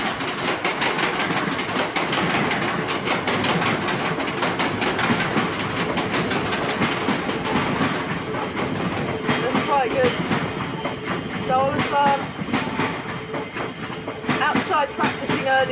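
A train rolls past in an outdoor setting with rhythmic clickety-clack and steady rumble throughout, fairly loud and continuous, with birds chirping faintly and occasional voices over the last few seconds.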